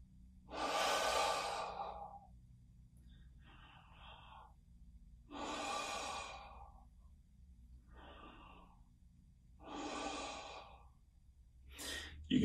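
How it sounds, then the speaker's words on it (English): Slow, deep breaths drawn in and let out in a calm breathing exercise, heard close and alone as four long airy swells with quiet pauses between them. "Take a deep breath in and let it out."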